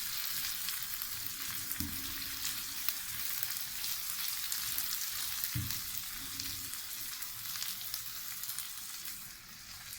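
Tomatoes and green chillies sizzle steadily in hot oil in a pan for egg brain masala, a continuous bright frying hiss with a couple of soft stirring knocks, no voices.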